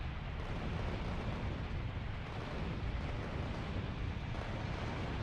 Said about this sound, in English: I'm gonna join in the attack when the artillery strikes hit.